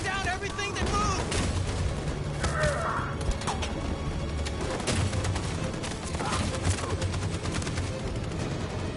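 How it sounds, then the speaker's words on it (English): Sustained machine gun fire rattles through a battle scene in the video game Detroit: Become Human, dense rapid bursts mixed with other gunshots and crashes, loud and continuous for several seconds, with voices shouting beneath the din. "That machine gun is taking down everything that moves!"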